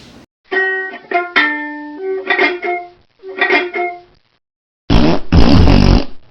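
A series of loud, buzzy fart sound effects, several short bursts with pauses, ending in a longer, rougher raspberry-like blast.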